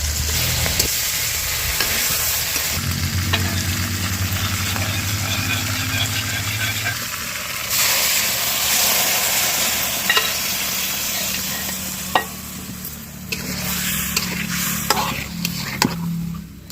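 Big fish head and taro (kochu) sautéed in a pan: a loud, continuous sizzle with a low hum beneath it and occasional scraping knocks of a stirring spoon.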